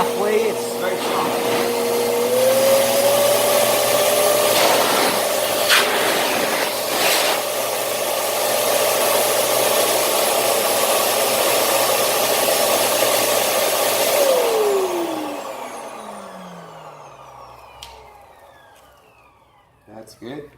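An SGCB water dryer blower runs at half setting with a strong steady whoosh and a rising motor whine, then spins down as the pitch falls away into quiet, with someone talking over it.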